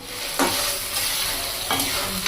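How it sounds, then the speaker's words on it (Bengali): Marinated chicken goes into a hot spiced masala and is stirred as it fries, a loud, close sizzle with a few spoon scrapes across the pan. "এবার মশলার মধ্যে চিকেনগুলো দিয়ে দেওয়া হলো।"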